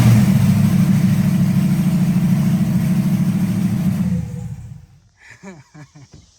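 An LS-swapped Crown Victoria is started with caps fitted over its exhaust tips, giving a loud, steady low engine drone that cuts off after about four seconds, leaving faint ticking and settling noises.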